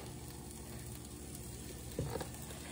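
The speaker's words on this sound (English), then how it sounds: "I'm giving my onions a nice little stir fry" Onions stir-fry in a pan on the stovetop with a steady, faint sizzle, and a soft clatter of the utensil stands out briefly near the end.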